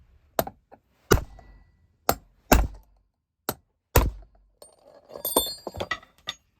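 A punch is hammered against the pin of an antique Wiley & Russell tap wrench, giving about eight separate sharp metallic knocks at uneven intervals, close and loud, with clinking and rattling of small parts near the end.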